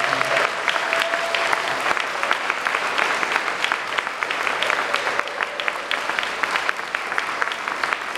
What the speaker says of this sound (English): Can we get one more round of applause for that?